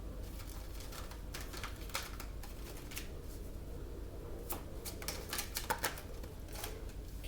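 Oracle cards are shuffled and drawn from a deck, producing quiet, crisp flicks and riffling taps in irregular clusters, close but faint.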